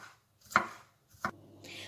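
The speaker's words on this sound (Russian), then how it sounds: "И также я мелко нарезаю чесночок. Я нарезаю ножом" A knife chops garlic on a cutting board, two sharp distinct thuds close by, quiet otherwise with no talking.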